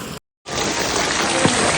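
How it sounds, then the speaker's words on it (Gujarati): Very heavy monsoon rain pours down in Gariyadhar as a dense, loud, continuous roar that resumes after a short cut in the sound. "બહુ એટલે બહુ ભારે વરસાદ છે અત્યારે ગારિયાધરમાં"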